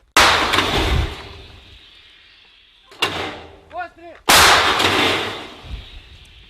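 Three heavy cannon blasts boom out one after another, each trailing off in a long rumbling echo, with a brief voice in between.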